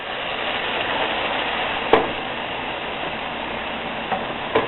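Orzo sizzling in a pan as it is stirred for an orzo risotto, a steady soft fizz with a few brief scrapes or clinks of the spoon.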